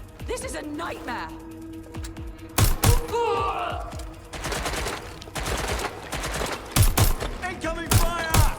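Loud automatic gunfire and sharp individual shots from Watch Dogs Legion gameplay, hitting in clustered bursts with thuds, while in-game voices shout between the volleys.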